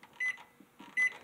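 A microwave oven with a Nos energy drink inside beeps twice as it starts, two short electronic tones under a second apart with faint clicks and hum between them.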